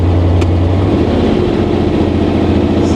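Big-power 1959 Rambler car on a test drive, its engine running loud and steady with a deep low rumble; pitch drops near the one-second mark as it shifts gears, then holds an even drone.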